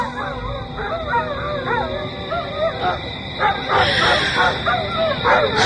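A dog barks and whines repeatedly toward a guava tree behind a house at night, its yips and drawn-out whimpering howls close and fairly loud, with a voice faintly underneath.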